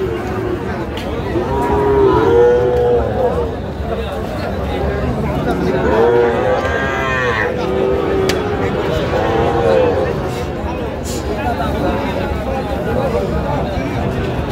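Sahiwal cattle and calves at a busy livestock market in Chattogram, Bangladesh, give repeated loud, drawn-out moos over a constant hubbub of crowd chatter and talking.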